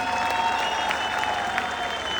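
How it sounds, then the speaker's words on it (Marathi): Sustained crowd applause at a Dahi Handi govinda gathering in Thane, honoring a ten-tier human pyramid record; steady, dense clapping continues throughout at an even level, with faint voices mixed in. "आपण सगळ्यांनी जोरदार टाळ्या वाजून त्याचं अभिनंदन केलं पाहिजे"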